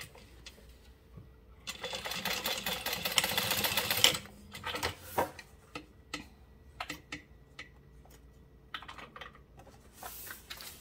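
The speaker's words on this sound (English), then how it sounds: "We're gonna sew across." A sewing machine stitches a 3/8-inch seam across the top of a fabric triangle bag, a dense rapid mechanical clatter running for a couple of seconds, then giving way to scattered handling clicks and short stitching bursts.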